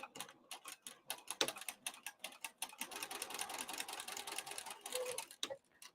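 Sewing machine stitching a crossbody bag with back tacks, a rapid run of mechanical ticks in short bursts separated by brief pauses, steady and close.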